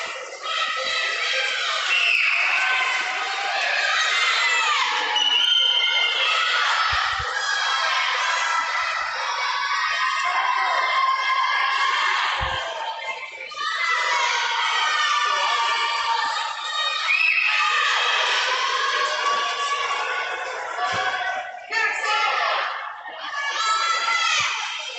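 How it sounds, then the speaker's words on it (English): Spectators cheer on swimmers at an indoor swim meet, a continuous roar of shouting and high-pitched children's voices that swells and dips over about twenty-five seconds, with a couple of brief lulls. "The crowd's getting a little more rowdy here, cheering the folks on."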